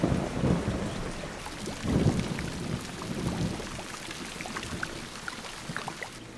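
A tropical thunderstorm rumbles over heavy rain, with deep thunder rolls near the start that fade into a steady downpour and scattered drips, loud and without voices.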